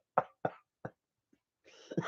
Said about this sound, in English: I just coughed up a gummy bear.